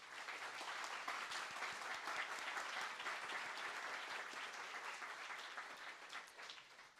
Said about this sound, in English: So a big round of applause for Mutaz.